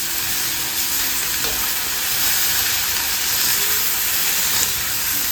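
A pressure cooker cooling on a home kitchen stove releases a steady, unbroken hiss of steam, close and moderately loud, with a faint high whistle running through it and no talking.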